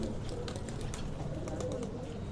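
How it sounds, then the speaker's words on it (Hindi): Soft, low pigeon coos murmur faintly beneath a steady hiss of background noise. "ये साकिब भाई के घर का गोल्डन कबूतर है"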